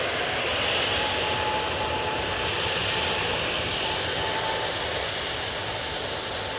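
Airbus A320neo jet airliner departing for Alicante at Manchester Airport, its engines giving a steady, loud broadband roar with a faint whine held throughout, no talk.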